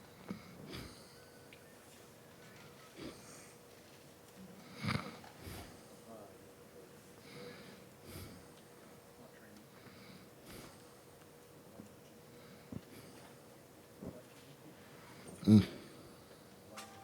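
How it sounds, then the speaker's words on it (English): Sniffing and snorting from someone suffering pollen allergies, with several soft sniffs and breaths spaced through a quiet indoor room and one sharper, louder sniff or cough near the end. "Excuse my stertorous coughing noises."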